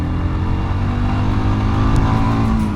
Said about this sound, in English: let's get full on the gas